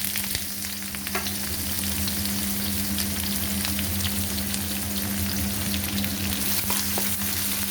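Chopped onions fry in a pan for chicken curry, an even, continuous sizzle with fine popping and a low steady hum beneath, close and unbroken, without any talking.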